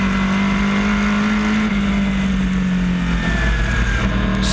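An ISMA supermodified race car running on methanol holds a steady, loud engine drone at high revs, with a strong sustained tone that sags slightly before steadying, alone with no voices.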